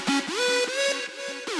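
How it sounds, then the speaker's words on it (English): Synthesizer top lead plays a quick melodic phrase of bright, buzzy gliding notes with pitch slides, loud and close in a studio track, with no talking. "Next up we have the top leads, which sound a little bit like this."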